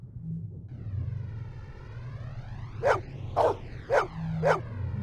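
A dog barks four times in quick succession inside the Blade Runner Enhanced Edition video game, sharp close yelps over a low droning rumble and a rising whooshing tone, with no talk.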